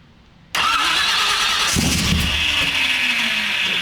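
A car engine, run without its fuel pump in case it is flooded, is cranked and then bursts into a loud, steady roar that holds close and constant with no talk over it.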